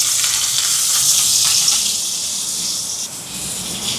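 Onion, garlic and curry leaves with mustard seeds frying in hot oil for a Sri Lankan veg bun filling, giving a steady, close, fairly loud sizzling hiss that eases slightly toward the end, with no talking.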